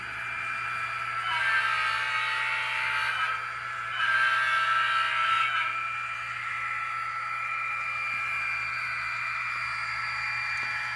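A Kato SDP40F model locomotive fitted with an ESU LokSound decoder rolls along a layout track, its sound unit giving a steady diesel drone with two swelling horn-like tones over a low hum.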